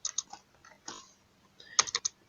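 Keys clatter on a computer keyboard while SQL table fields are entered for an Oracle database: quick irregular bursts of close, crisp taps separated by short pauses, with no voice.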